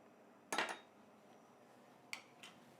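Dry agar and malic acid being mixed into sugar in a bowl while making an apple mousse pastry, heard as a quick clinking scrape of utensil against the dish, then two shorter clinks a moment later.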